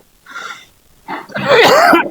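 Loud, close coughing into a microphone at an Islamic religious lecture: a short first burst, a pause, then a longer, harsher fit of coughs and throat clearing.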